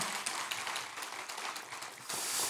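Church congregation applauding at a Wednesday worship service, a steady dense wash of clapping that swells again near the end, moderately distant in a large room.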